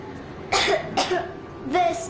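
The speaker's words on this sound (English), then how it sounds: "I have this cough." A child coughs three times in short, separate bursts in the video game Metro Exodus, close and fairly loud against quiet background hum.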